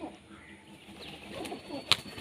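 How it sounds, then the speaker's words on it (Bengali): Pigeons take off and land around a rooftop loft, with a soft flutter of wings and one sharp, brief flapping burst near the end over a quiet outdoor background. "ওই পাখি উড়ে যাচ্ছে"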